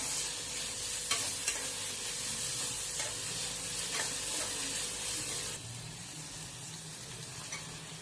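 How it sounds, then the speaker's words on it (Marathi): Chopped tomato and peppers sizzle steadily in a pan for paneer bhurji, with a soft continuous frying hiss, occasional stirring scrapes, and the sizzle easing slightly partway through. "त्यावर आपण एक टोमॅटो चिरून घेतलेला आहे तो टाकूया आणि तो परतून घेऊया"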